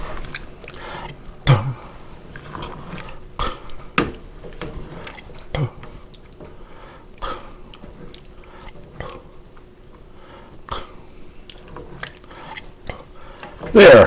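Beer chili being stirred in a pot, with scattered scrapes and clinks of the spoon against the pot at an irregular rhythm, fairly quiet, with a few louder knocks.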